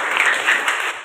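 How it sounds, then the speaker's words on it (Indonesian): A group of children clapping hands together in a steady counted rhythm, dense and continuous, loud and close, with no talk over it. "Tepuk 1, tepuk 2, tepuk 3, tepuk 4"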